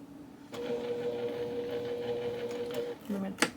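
A sewing machine hums in a steady run while back stitching to finish a cross stitch piece, a close whirring tone lasting a few seconds, then a short reverse burst and a sharp click.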